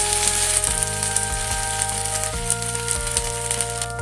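Sabudana dosa batter sizzles steadily on a hot pan, a dense continuous crackle with a low steady hum beneath, no talking.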